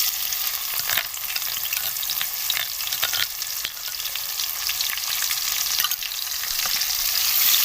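Garlic and ginger paste sizzles steadily in hot oil with bay leaf and cinnamon, a loud, continuous close-up frying hiss with faint crackles and occasional stirring scrapes.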